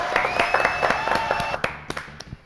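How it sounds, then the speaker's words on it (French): Brief scattered clapping from a theatre audience, a handful of separate hand claps rather than a full ovation, with a tonal hum running underneath. "Applaudissements donc pour Thierry"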